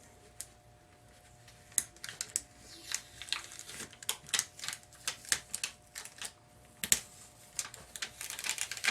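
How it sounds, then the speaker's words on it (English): Transfer tape peeled slowly off a plastic sheet while making a rhinestone graduation cap topper, giving a run of sharp, close crackling snaps and ticks that grow denser over several seconds, with no talking. "remove the transfer tape, if I can get it off this plastic."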